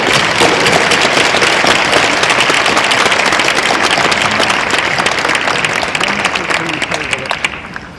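A symposium audience gives the panel a big round of applause: dense, loud, continuous clapping filling the room and thinning slightly toward the end.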